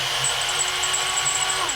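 Power drill or driver whirring steadily while screws go into a Vanquish VS4-10 RC crawler kit during assembly, one continuous close-up run with a falling pitch at the very end.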